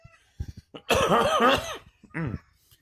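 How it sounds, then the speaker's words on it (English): Nearby coughing: a short hack, a long rough fit of several coughs, then one more cough after a brief pause. "Sorry, last bit of that cough."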